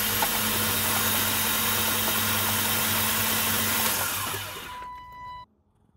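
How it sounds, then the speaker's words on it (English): A car engine cranks with the throttle held wide open, a steady loud churning drone that runs for several seconds before stopping abruptly, leaving silence. "Throttle wide open, cranking."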